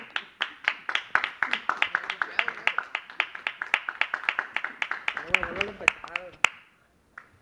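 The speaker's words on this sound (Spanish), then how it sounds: "Un aplauso." Rhythmic clapping from a small audience greets a veterinarian guest on a comedy news segment, steady sharp claps that gradually thin out, with a voice briefly speaking near the end.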